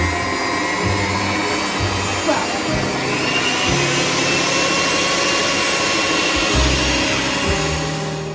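An electric mixer whirring steadily through a chocolate cheesecake mixture, loud and close, a continuous motor drone with slight pitch shifts as it works, voices faintly under it.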